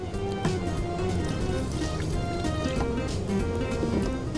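Water is poured into a cooking pot while preparing Peshawari kabab or kheer, a continuous close splashing and bubbling pour that runs steadily throughout.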